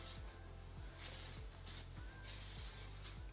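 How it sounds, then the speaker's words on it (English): Repeated short hissing bursts of hair shine spray onto oiled hair, about four puffs in a loose rhythm, close and soft over a low hum. "I'm gonna use some of this shine spray."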